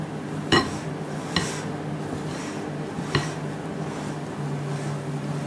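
A spoon stirs chocolate mousse mixture of whipped egg whites and sugar in a bowl, with a few sharp utensil clinks against the bowl over a steady low background hum.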